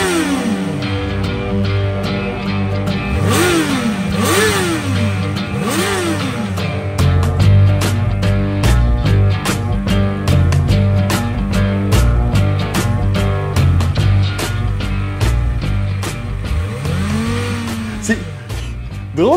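Kawasaki Ninja ZX-4R motorcycle engine revved repeatedly, sharp high-pitched blips rising and falling in quick succession, then a sustained busy rattling idle with further rev swells, loud and close.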